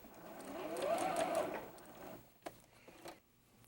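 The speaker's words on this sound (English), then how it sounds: "that's sewing the one arc onto the small melon" Sewing machine stitching a fabric arc onto a small melon piece for a mini double wedding ring quilt: a fairly quiet, steady whir for about two seconds, followed by a couple of soft clicks.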